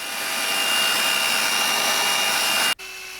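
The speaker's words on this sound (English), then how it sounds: "Most is removed with the planer. And the last with the sander." An electric sander strips excess wood from a wooden luff groove strip, giving a steady, loud, even whir for close to three seconds that then cuts off abruptly into a faint hum.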